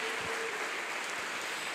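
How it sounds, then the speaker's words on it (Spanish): A church congregation applauds together in a steady, continuous wash of clapping at moderate level, with no speech over it. "Y ahora sí aplaudí con un aplauso de alegría y gozo en esta tarde."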